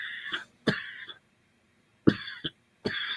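Several separate coughs from one person, in short bursts with pauses between them, heard close and clear in a church service setting.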